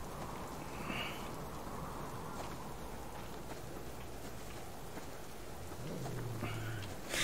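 Steady rain falls in the survival video game Subsistence, a constant hiss with faint rumbles of thunder partway through and a low swell near the end.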